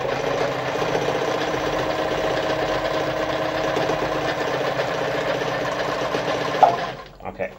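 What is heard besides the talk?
Veritas automatic 8014/3 sewing machine stitching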